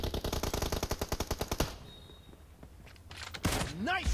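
Rapid automatic gunfire from a video game fires in a loud, dense burst of evenly spaced shots, then stops; a quiet stretch follows before a voice starts talking.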